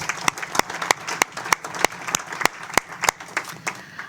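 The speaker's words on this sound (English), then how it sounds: "So a brief round of applause for Roe, and thanks for his contributions." A small group at a railroad board committee meeting gives a brief round of applause, with sharp, fairly sparse hand claps in an irregular rhythm, close and clear, with no talking over them.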